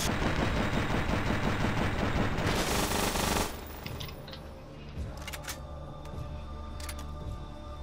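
An MG42 machine gun in GMod fires in slow motion: a dense, loud roar of overlapping shots for about three seconds, then a quieter stretch of scattered clicks and distant rattles.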